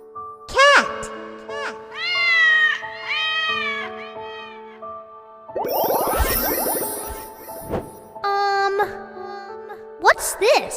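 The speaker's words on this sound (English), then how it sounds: "Cat." Several cat meows, some drawn-out and wavering, with a burst of clattering noise in the middle and a short yowl at the end.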